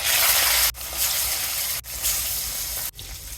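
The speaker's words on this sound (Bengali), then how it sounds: "কড়াই চাপিয়ে তেল দিয়ে সয়াবিন তেল দিয়ে ভেজে নেব" Katla fish fry in soybean oil in a wok, giving a steady, loud sizzle broken by a few brief dips where the crackle pauses, with no talk.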